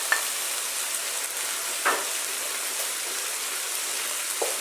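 Garlic dropped into a small amount of hot oil in a pan, giving a steady soft frying sizzle throughout with a few faint clinks and stirring sounds, no talking.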